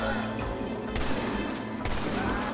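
Gunfire in the video game Red Dead Redemption: a dense, continuous burst of shots with sharper cracks standing out about a second apart.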